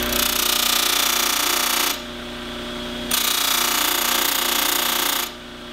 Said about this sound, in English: So I'll clean this up with a buffing wheel